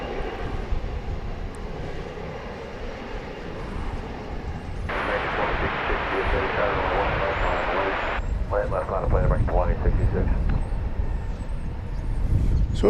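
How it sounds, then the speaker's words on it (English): An 11-year-old Airbus A319 airliner at DFW Airport gives a continuous jet engine roar that grows louder toward the end, with a burst of broadband hiss partway through and people talking over it. "An Airbus A319 flight 1034, an 11-year-old Airbus A319."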